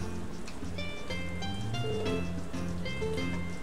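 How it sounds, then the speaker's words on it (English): Steady patter of rain in Harvest Moon: A Wonderful Life fills the background, layered under soft melodic music tones, with no clear talking. "It's raining."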